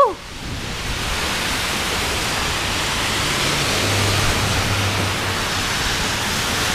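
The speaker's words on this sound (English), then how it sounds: "It is pouring." Heavy rain pours down outdoors in a dense, steady hiss of broadband noise that holds loud and even throughout, with a low hum underneath and no talking.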